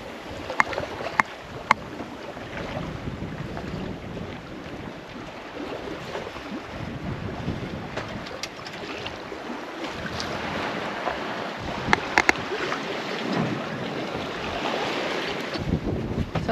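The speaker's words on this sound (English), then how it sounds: "But there's wind." Wind and ocean waves while sailing solo from Panama toward the Marquesas, a steady broadband rush of air and water around the boat with occasional sharp knocks, continuous and fairly loud with no talk.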